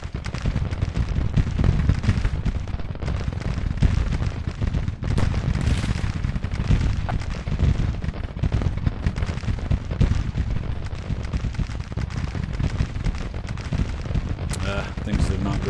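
A Civil War battle in Grand Tactician: The Civil War, with massed musket volleys and artillery fire merging into a dense, unbroken rumble and crackle of distant and near shots that holds steady throughout.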